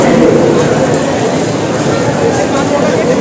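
Loud, steady rumble of a metro train in motion, a constant roar filling the space without clear breaks.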